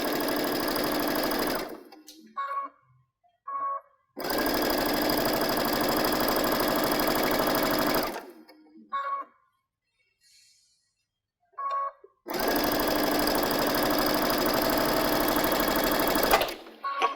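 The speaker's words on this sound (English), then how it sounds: "when I start sewing, just know that what I'm going to be doing is a 1/4 inch seam allowance" Sewing machine running a quarter-inch seam on patchwork stocking fabric, stitching in three long, steady bursts separated by quiet pauses filled with brief handling clicks and fabric sounds.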